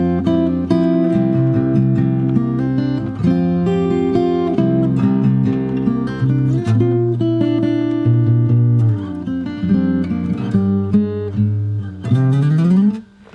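Fingerstyle guitar plays the big, loud closing section of The Mandalorian theme, with full strummed chords and bass notes ringing close, ending on a rising slide.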